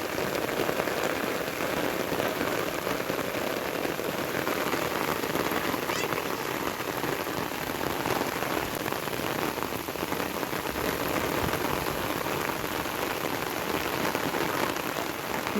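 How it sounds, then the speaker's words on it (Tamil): Heavy rain pours steadily during a fishing outing, a dense continuous hiss of drops striking surfaces that holds at an even, loud level throughout with no pauses. "கொஞ்சம் நேரத்துலேயே மழை அதிகமாக பெய்ய ஆரம்பிச்சிடுச்சு"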